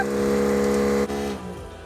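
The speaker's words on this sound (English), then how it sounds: "I'm gonna hit test to see if that motor works" A deer feeder's battery-powered motor whirs on a test run with the hopper empty, a loud steady hum that holds for about a second, dips and then runs down as it stops.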